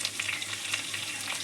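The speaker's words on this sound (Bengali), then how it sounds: "দিয়ে আমি ভালো করে চিচিঙ্গা আলুর সঙ্গে কষিয়ে নেবো মশলাটা" Ground spices crackle and sizzle in a pan with snake gourd and potatoes, a steady close hiss throughout.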